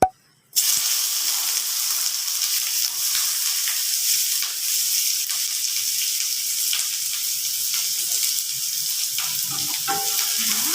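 Onions and chili fry in a hot pan, giving off a loud, steady sizzle. A short silence opens the clip, then a dense, even hiss runs with faint stirring noises.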